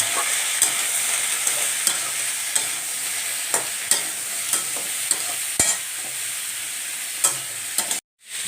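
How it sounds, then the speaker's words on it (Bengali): Beans and potatoes fry lightly in a pan for mustard-style sheem. They make a steady soft sizzle, and a utensil stirs them with regular sharp scrapes and taps. It stops abruptly near the end. "এটা হালকা একটু ভেজে নিতে হবে।"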